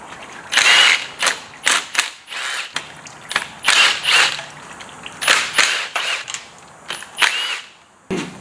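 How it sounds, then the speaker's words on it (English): A hand ratchet clicks in rapid bursts, with short pauses between them, as it loosens the oil pan bolts on a Toyota 7M engine. The clicking is close and clear, with no talking over it. "Pull the oil pan off, see what the damage is in the bottom."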